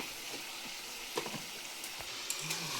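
Meat fries in a pan after salt is added and is turned over, producing a soft, even sizzle with a few light scrapes and taps of the spoon, fairly quiet. Nobody speaks.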